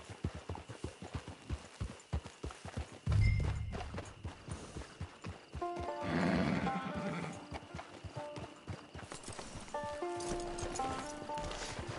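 A horse in a video game clip-clops along in a steady hoof rhythm, then whinnies loudly partway through, with a second neigh later over continuing footfalls and faint background tones.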